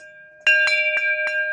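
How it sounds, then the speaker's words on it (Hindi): Small brass bells ring in a shop, five bright metallic strikes in quick irregular succession with sustained shimmering tones and no talking. "ब्रास के घंटियाँ"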